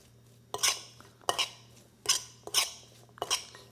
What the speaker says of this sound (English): And we'll just stir it up.